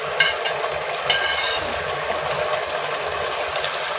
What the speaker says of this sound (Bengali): ভেজে রাখা মাছগুলো এখন দিয়ে দেব।